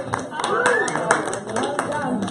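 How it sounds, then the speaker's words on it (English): A small group gives a round of applause, a light patter of scattered hand claps running steadily under people talking nearby. "Okay, a round of applause."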